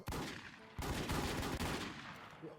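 Rapid automatic gunfire in a first-person shooter game, sustained bursts crackling almost continuously across the moment with brief breaks between volleys, loud and close.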